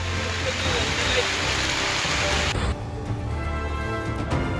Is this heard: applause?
no